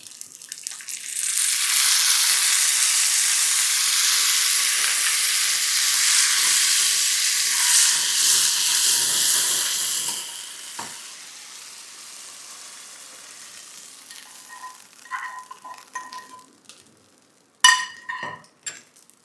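Dissolved asafoetida hitting hot oil bursts into a loud, hissing sizzle for about ten seconds, then calms to a gentle crackle, with a few metallic clinks of a spoon against the pan near the end.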